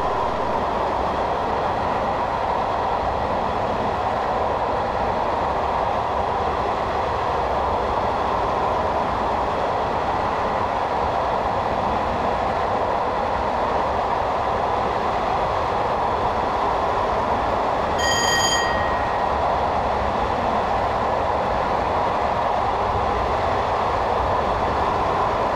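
A Class 421 electric multiple unit running on the Brighton to London Victoria line in Train Simulator 2015, a steady rumbling roll of wheels and carriages crossing Ouse Viaduct, with a brief high tonal chime partway through.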